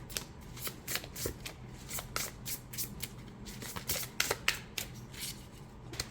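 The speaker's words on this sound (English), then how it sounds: "But I think for this, the side shuffle works a little bit better." A Marseille tarot deck is side shuffled by hand, giving a rapid series of crisp riffling card slaps and flutters, close and fairly quiet, with no talking.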